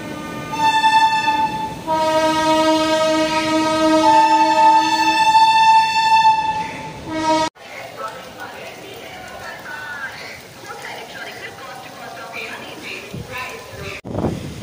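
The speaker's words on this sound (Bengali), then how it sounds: "আমাদের ট্রেন এসে পৌঁছেছে এখন খড়গপুর জাংশন" A passenger train nears Kharagpur Junction in India on the way to Digha. Its loud, sustained horn blares for several seconds, then the sound cuts to a quieter rumbling carriage interior with faint clattering.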